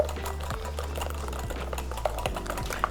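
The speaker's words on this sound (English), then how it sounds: "Whisk, whisk, whisk." Chocolate brownie batter is whisked by hand in a bowl, making quick, rhythmic clicking and tapping strokes up close with no talk.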